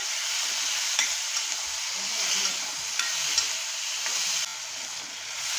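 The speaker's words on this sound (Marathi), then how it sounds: "छान असं आपण मिक्स करून घेतोय" Onions and tomatoes with salt sizzle steadily in a pan, a close, constant frying hiss with light stirring taps and scrapes.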